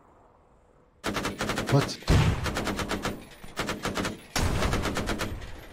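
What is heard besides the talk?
gunfire in Arma 3 video game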